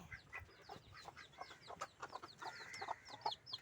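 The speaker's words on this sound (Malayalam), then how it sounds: "കോഴിക്കുട്ടികൾ" Chickens cluck among a steady stream of high, thin peeps from chicks, busy and overlapping, fairly close with no talking.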